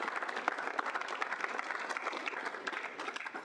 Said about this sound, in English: We'll go ahead and give some round of applause even though she's not.